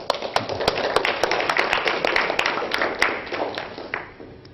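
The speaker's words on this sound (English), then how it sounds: "give him a round of applause" A lecture audience at Oxford claps in welcome, a modest crowd whose separate sharp hand claps stand out within the applause, fairly close, tapering off toward the end.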